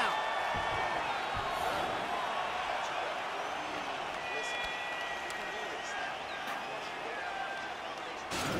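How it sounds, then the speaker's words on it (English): A virtual arena crowd in EA UFC 4 applauds and cheers after a round, a loud, steady wash of clapping and crowd roar lasting throughout, with a commentator's voice mixed in underneath. "So the crowd voicing its appreciation after that round."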